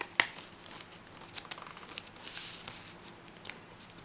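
Origami paper being folded and creased by hand: soft, close crinkles and brief papery rustles in scattered bursts, with one sharper crackle near the start and otherwise quiet between touches.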